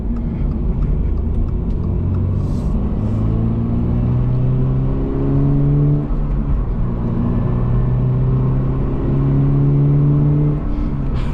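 Steady low engine drone from a 2024 Toyota GR86 sports car cruising on the highway, a booming hum with rising and falling harmonics under constant road roar, continuous and close throughout.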